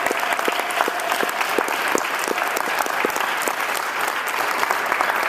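Audience applause at a conference keynote address, steady dense clapping from a sizeable crowd that holds at an even level throughout, with no voices over it.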